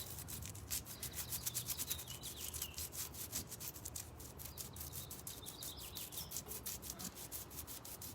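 Sandpaper rubs rhythmically across a thrift store table, fast steady back-and-forth scratching strokes close by, with faint bird chirps in the background.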